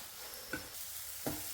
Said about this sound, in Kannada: ಟೊಮೆಟೊ ಸಾಫ್ಟ್ ಆಗಬೇಕು, ಅಲ್ಲಿವರೆಗೆ ಇದನ್ನು ಚೆನ್ನಾಗಿ ಹುರ್ಕೋಬೇಕು.